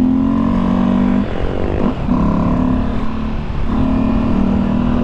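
A motorcycle engine running on a street in the Baixada on a Sunday, a loud, close, steady drone that dips briefly as the rider eases off, then holds again.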